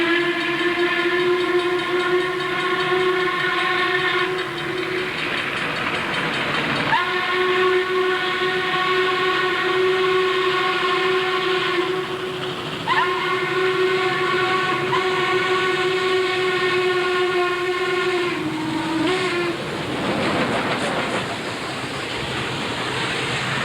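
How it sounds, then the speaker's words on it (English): An articulated steam locomotive hauling a coal train in Georgia in the early 1990s sounds three long, loud whistle blasts and a short final toot over a rumbling rolling train. "Ed caught the articulated locomotive pulling the deadhead"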